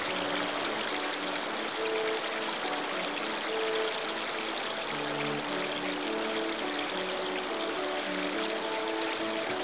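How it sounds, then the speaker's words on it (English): Garden fountains splash steadily in a Paris palace garden, a continuous dense wash of falling water, close and fairly loud, with no voices over it. "Many beautiful fountains adorn the gardens."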